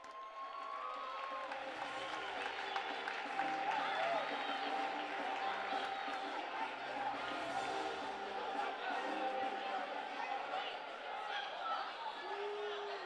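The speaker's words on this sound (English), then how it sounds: "A nice round of applause, please." Crowd at a soccer match between Mississauga MetroStars and Utica City FC cheering and applauding an honored guest and his granddaughter, a steady dense roar with whoops and chatter lasting throughout, fairly distant and even in level.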